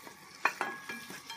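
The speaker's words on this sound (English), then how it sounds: "I'm going to put the shin of veal in there to just quickly brown it a bit." Veal shin browning in a hot pan, with a soft sizzle and a few quiet scraping knocks as the meat is moved, close and brief.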